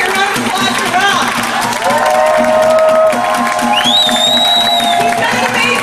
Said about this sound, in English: Let's hear a round of applause for Ralph.